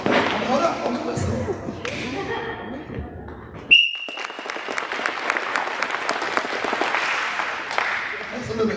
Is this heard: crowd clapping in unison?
yes